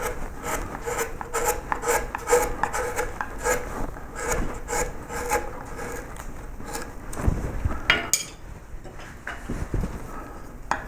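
A wood rasp files the head of a carved wooden koi carp in quick, repeated rasping strokes, steady at first and then slower and more uneven, up close with no voices.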